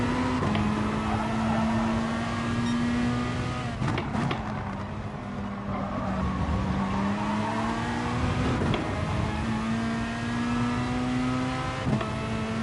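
Race cars in a racing video game, a Lamborghini among them, accelerate away with a loud, sustained engine drone whose pitch climbs and shifts through gear changes, with a few brief tire squeals and no talk over it.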